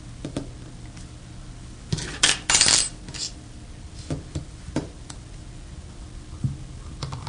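Small metal clicks and clatter from unscrewing the grip frame of an AGD E-Mag paintball marker, scattered light ticks with a louder rattling burst in the middle, close and without speech.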